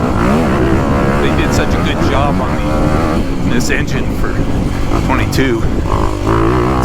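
A 2022 Honda CRF250R or 2021 KTM 350 dirt bike engine revving loudly and continuously, rising and falling in pitch with throttle changes, while a rider talks over the engine noise.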